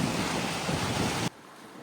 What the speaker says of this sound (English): Pretty wild old ocean out here today.